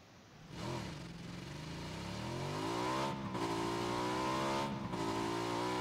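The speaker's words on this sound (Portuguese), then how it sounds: "Ok, tamo na moto." Motorcycle engine in the PUBG video game, revving up with a rising, climbing whine that swells in steps, each surge briefly cut and then resumed, loud and close with no talking.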